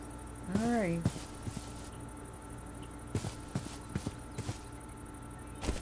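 A cow in the Minecraft video game gives one short rising moo. Soft blocky footsteps and scattered taps follow at a steady, quiet level.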